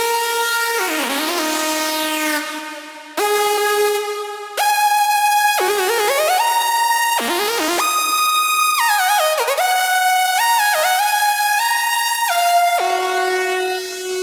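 A saw synth lead with vibrato plays a melodic line of gliding, wavering notes, some bending down and rising, loud and alone over roughly fourteen seconds.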